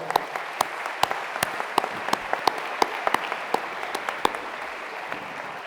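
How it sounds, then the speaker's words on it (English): Audience applause at the IAC 2023 closing ceremony in Baku, a steady dense patter of many hands clapping, with a few sharper individual claps standing out, sustained at moderate distance. "Please let's give all of these groups and individuals a warm round of applause."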